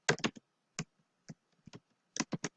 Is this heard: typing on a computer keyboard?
yes